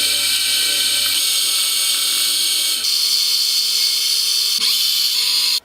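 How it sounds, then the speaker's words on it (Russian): A metal lathe bores out the jaws of a Belarusian-made chuck to about 35 mm, giving a loud, steady machining whine and grinding, with tone shifts partway through before it stops abruptly at the end. "В данном случае я растачиваю где-то на диаметр 35 мм."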